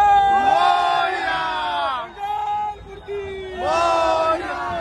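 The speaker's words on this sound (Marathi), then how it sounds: "आपण एकदा जोरदार जल्लोष करूया बाप्पाच्या नावाने" A crowd at a Gudhi Padwa procession with a palanquin on Phadke Road in Dombivli shouts Ganpati Bappa's name in loud unison, two strong bursts of massed chanting separated by a short lull with a single voice.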